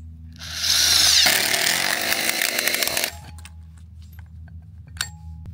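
A power drill fitted with a 3/8 inch bit runs loudly for about three seconds during a thermal retrofit job, its motor whine cutting off abruptly, followed by quieter clicks and handling noises.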